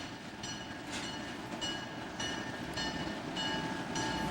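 Scenic railway train arriving, rolling loudly and close with a steady rumble, periodic clicking of wheels over rail joints and a faint metallic squeal.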